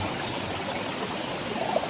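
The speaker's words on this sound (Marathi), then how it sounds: "झरे बघ हे असे झरे आहेत ना" A small spring trickling in a Konkan village, water running in a steady, soft, continuous flow close by, with no talking.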